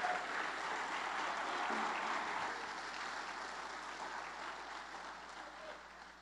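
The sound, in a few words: congregation applauding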